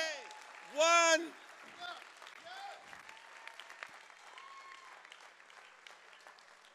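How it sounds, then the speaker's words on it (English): A church congregation at a Palm Sunday service claps and calls out in a soft, scattered wash of sound, starting with a loud shouted voice and then continuing as quieter clapping and cries under a speaker. "Clap your hands and shout, one day, one."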